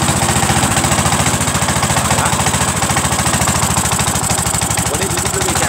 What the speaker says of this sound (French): Je redémarre le tracteur